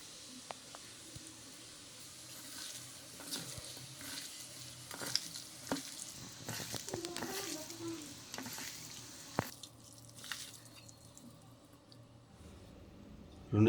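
Marinated chicken for Chicken 65 being stirred together with added ingredients in a bowl, giving faint wet squishing and mixing sounds at a low level, with soft clinks and patters.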